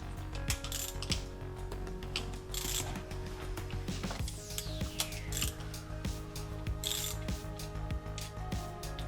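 A ratchet backs out the 8mm bolts on the VVT solenoid of a Volvo XC90. The rapid clicking comes up close, broken by pauses and faint mechanical rubbing.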